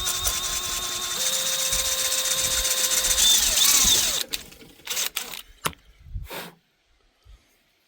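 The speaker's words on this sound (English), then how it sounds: "I think I'm actually drilling into the bottom end" A power drill bores into the mangled case of a Pioneer P61 chainsaw, whining steadily and rising in pitch before cutting out, followed by several sharp clicks and knocks and a brief burst near the end.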